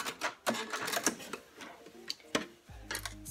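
Sewing machine stitching a seam on a boat-neck top, finishing with a backstitch: rapid bursts of needle clatter in short runs with brief pauses and a low motor whir near the end.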